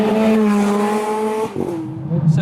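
A tuned 746 bhp Novitec Ferrari 430 Scuderia engine holds a steady, loud droning tone while driving on the street, then drops briefly as if shifting before picking back up.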